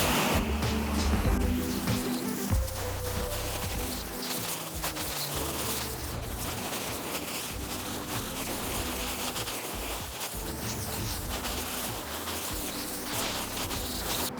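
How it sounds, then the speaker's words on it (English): A garden hose sprayer on its wide fan setting rinses down a car before washing, a steady broadband hiss of water spraying across the body panels that runs continuously and fairly loud without talk. "So I'm going to put the sprayer here on my fan setting."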